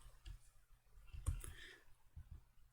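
A computer mouse double-clicks while someone works in FreeCAD: faint, quick clicks in a quiet room, with a sharper pair near the middle and another click at the end.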